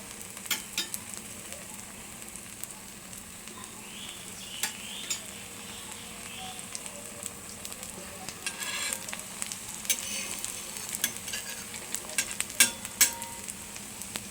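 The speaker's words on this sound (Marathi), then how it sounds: "हे तव्यावर टाकलेलं आहे. आता आपण यामध्ये तेल सोडणार आहोत." Poha thalipeeth cooks on a griddle with oil added, giving a soft, continuous sizzle with scattered faint crackles and pops that grow a little busier toward the end.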